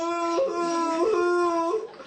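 A dog crying in a children's story: a drawn-out, wavering tonal howl that rises and falls, close and fairly loud, fading at the end. The crying is most likely voiced by a person imitating the dog.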